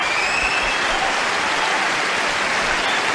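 Crowd applauding a rally at a 2023 Australian Open tennis match between Azarenka and Pegula, sustained dense clapping filling the stadium at a loud, even level with no talk.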